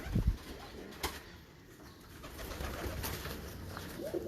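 Pigeons coo in a loft of Sialkoti pigeons, low soft calls repeating through the clip, with a brief flutter of wings near the start and steady faint background noise.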